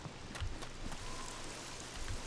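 Rain falling in the open-world survival game SCUM, a soft, steady patter with a few sharper drops, fairly faint and with no talk.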